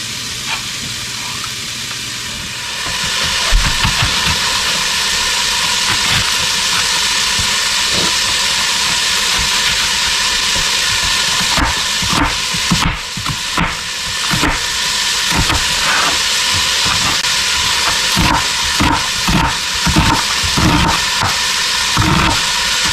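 Onion is dumped into a hot soup pot and bursts into a loud, steady hiss and sizzle that holds continuously, with scattered crackles and knocks from stirring running through it.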